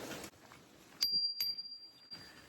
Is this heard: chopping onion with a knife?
no